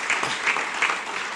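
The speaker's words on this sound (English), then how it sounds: "Let's give them a round of applause for what's going on" Applause from an audience at an Essex County Freeholders Italian Heritage Month event honoring Columbus Day Parade organizers, a steady moderate clatter of many hands with slight swells, no voices on top.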